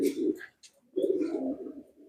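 Racing pigeons coo at a pigeon contest, two close, low throaty coos separated by a brief pause, with faint higher chirps mixed in and no talk.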